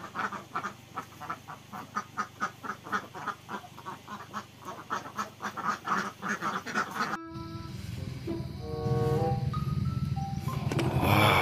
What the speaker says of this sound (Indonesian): ternyata ini hewan bebek